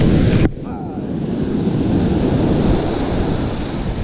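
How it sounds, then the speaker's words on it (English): Ocean waves surge and wash onto a beach at Pacifica during crab snaring, a steady loud broadband roar with wind buffeting the microphone, after a brief sharp burst at the start. "Wait for the waves to come in."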